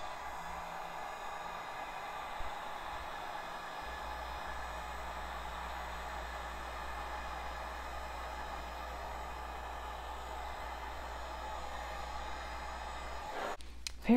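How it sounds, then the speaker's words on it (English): Heat gun on its low setting blowing over an acrylic paint pour, giving a steady, close airy whoosh that holds evenly for the whole stretch before a brief clatter at the end. "And now with my heat gun, I'm going to put it on the low setting."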